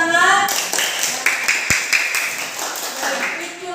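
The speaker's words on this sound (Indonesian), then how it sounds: "terima kasih, tepuk tangan." Students in a classroom lesson applaud, a loose scattering of hand claps following the teacher's voice and then thinning out, with talk continuing beneath.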